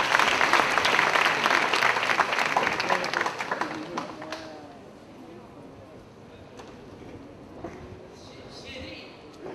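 A crowd applauds to welcome a comedian onto the stage, loud dense clapping for about four seconds that fades out, followed by a quieter stretch with a few stray sounds.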